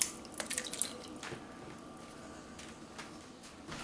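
Juice from a can of diced tomatoes drains in a thin trickle and a few drips into a pot, with faint wet spatters near the start and otherwise a quiet, steady pour with no talking.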